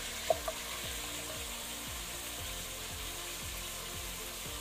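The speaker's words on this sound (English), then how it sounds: "And nicely mix those ingredients around with the lamb." Lamb with chopped onions and garlic sizzling in a pan for curry, a steady soft hiss with rhythmic scraping strokes of a stirring utensil and a couple of sharp clinks near the start, no voices.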